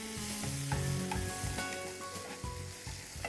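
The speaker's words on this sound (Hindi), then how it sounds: "अब मैं डालूंगी इसमें टमाटर और इसे भूनें" Tomatoes frying with a little turmeric as the base of a potato saagu curry, a steady, close sizzle with stirring scrapes and clinks running through it, and no talking.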